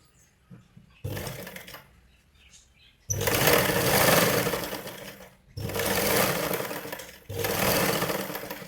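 Sewing machine running in several bursts of a few seconds each while stitching a hook strip on a blouse, close and steady motor hum separated by brief quiet gaps, no voices.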